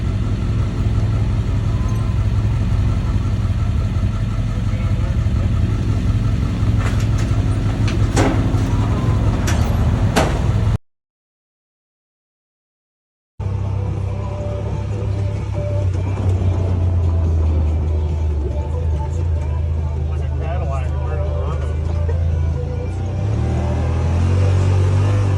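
A Yamaha Rmax 4 1000 side-by-side drives on lake-area trails, its engine a steady loud rumble throughout, briefly cut by a short silent gap before the drone resumes.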